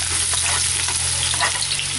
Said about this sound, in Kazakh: Майымыз қызып болғанда сарымсақ саламыз.